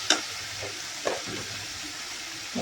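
Chicken gravy masala with dried curry leaves sautés in a pan, giving a soft steady sizzle with a few light stirring scrapes close by.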